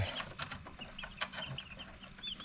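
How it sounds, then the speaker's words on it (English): Newly hatched chicks in an incubator peep and cheep in a dense overlapping chorus, high and busy, close by, with soft rustling and a low background hum beneath. "That is a bundle of chicks"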